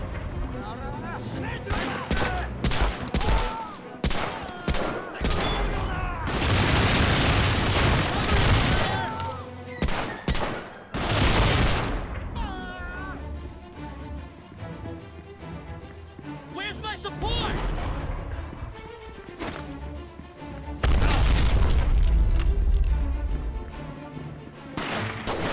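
Game battle from Medal of Honor: Rising Sun with repeated bursts of gunfire, including mounted machine gun fire, rattling loudly in several waves over rising game music and sound effects.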